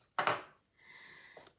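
A quick cut through craft material for a Stamperia Cosy Winter album, one short sharp snip followed by a brief scraping slide and a faint tap, close and quiet.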